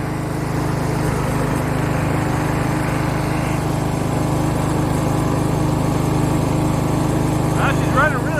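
A free, recently revived riding lawn mower drives uphill in high gear with its small engine droning loud and steady close by, while a voice talks over it.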